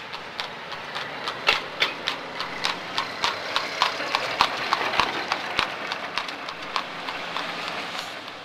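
Amish horse-drawn buggy passing near a candy factory, hooves clip-clopping in a steady brisk rhythm of sharp clear hits over a low background rumble, growing louder as it passes.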